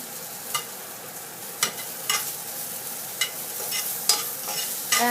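Shallots added to a frying pan and stirred with garlic and green chilies while cooking yellow Swedish mushrooms, giving a steady close sizzle broken by several sharp utensil scrapes and clinks.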